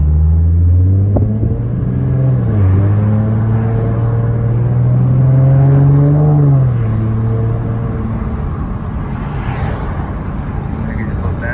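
A 2014 Ford Mustang with a Roush axle-back exhaust gives a loud, deep, burbling engine note whose pitch climbs and then settles as it accelerates nearby, with people talking over it.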